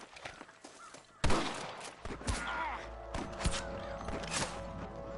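Sharp rifle shots from snipers crack through a Red Dead Redemption gunfight, with a loud report early on and scattered sharper cracks after it, set against rumbling game ambience and faint movement.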